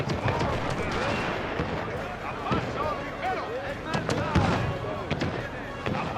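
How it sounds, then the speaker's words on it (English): Cannon fire from 6- and 4-pounder field guns in Pike & Shot Total War, a winter battle with massed troops, comes as repeated sharp reports scattered over a dense battle din, with someone talking throughout. "these 6 and 4 pounders. Keep wheeling them up, boys. They keep shooting."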